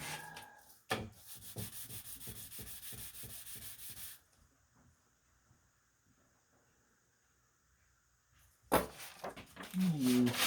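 A harmonica comb rubbed back and forth on 500-grit sandpaper gives a rhythmic, close scraping rasp for about four seconds, then goes quiet before louder handling noise and a brief voice return.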